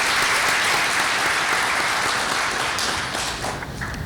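Sustained audience applause at an energy forum in Korea, a dense steady patter of many hands clapping alone, easing slightly toward the end.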